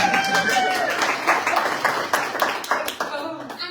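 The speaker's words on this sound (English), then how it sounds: "Hey, y'all clap for me." An audience at a political meeting on the Texas legislative session claps in scattered, uneven bursts for an arriving guest, with voices and cheering mixed in throughout.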